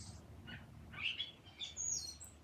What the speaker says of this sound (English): you see how beautiful the bird sounds?